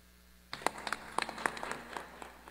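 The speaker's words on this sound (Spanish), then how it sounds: "más fuertes los aplausos para el presidente" Scattered applause breaks out at an outdoor inauguration of a paving project in the Los Chonayes sector of Santa Apolonia, with individual claps rising after a brief quiet and continuing unevenly at moderate distance.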